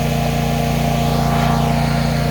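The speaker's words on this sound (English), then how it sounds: "Sorry if it's still there with that mower going" A lawn mower runs close and loud with a steady droning engine hum, alone without voices, on a property being cleared of tall weeds.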